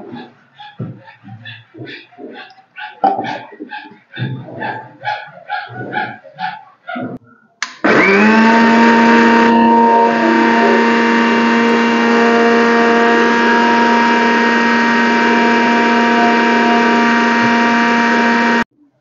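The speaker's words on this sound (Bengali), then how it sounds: "এবার এটাকে মিক্সচারে দিয়ে পেস্ট করে নেব" A mixer grinder blends a paste with a little salt and sugar, its motor starting abruptly and holding a loud, steady whirring drone for about eleven seconds; a dog yelps and barks repeatedly just before it starts.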